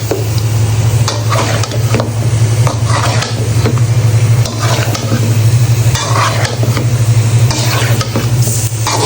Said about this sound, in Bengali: লাউগুলো আমি এখন দিয়ে দিব বিসমিল্লা লাউগুলোকে সুন্দর করে একদম নিচ থেকে নাড়া দিয়ে দিব